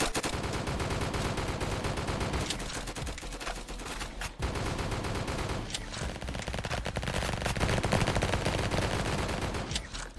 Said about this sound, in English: It's the M4A1. It's just like Tommy gun, but this one has really huge recoil.